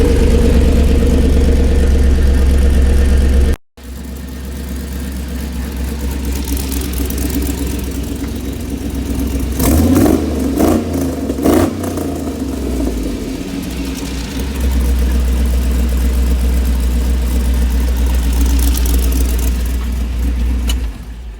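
A lifted LS-powered Chevy Tahoe V8 engine rumbles through a 4-inch exhaust with a deep note, idling low, briefly cutting out, then revving up and settling back to a steady throaty idle.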